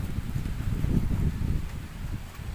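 Strong wind at an outdoor fishing pond during a carp fishing competition, a continuous low buffeting roar with gusty swells across the mic, moderately loud and without speech.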